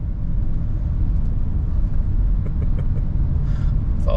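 Cars crawl through slow traffic on a Southern California road, a steady close engine and road rumble running throughout with no voices.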